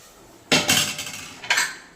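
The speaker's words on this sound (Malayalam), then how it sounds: "അടപ്പ് കൊണ്ട് അടച്ചു കൊടുക്കാം" A metal lid is shut onto a pressure cooker during a home breakfast cook, giving two sharp clanks about a second apart, the first louder with a short metallic ring after it.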